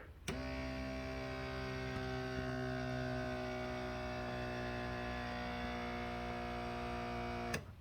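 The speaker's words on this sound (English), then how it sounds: "I think that's an air compressor." An air compressor running steadily at a moderate distance, a constant tonal motor hum that starts and stops abruptly after about seven seconds, with no talking over it.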